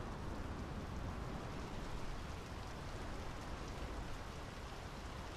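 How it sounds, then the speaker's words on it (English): Steady, dense rain pours down in a quiet video game town, a broad continuous hiss of drops on surfaces holding even and close for the whole stretch, with no voices over it. "The rain's picking up."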